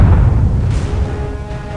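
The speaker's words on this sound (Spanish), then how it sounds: "Otra explosión se volvió a oír" A single heavy explosion booms in a Loquendo story, a loud low rumble right at the start that slowly decays into a fading roar, with no voices.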